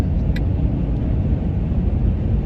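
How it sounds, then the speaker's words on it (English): Ram 2500 4x4 long-bed pickup with a 6.4 liter Hemi passing on a morning commute, a loud, steady low rumble of engine and road noise throughout. "That Ram 2500 4x4 off-road long bed."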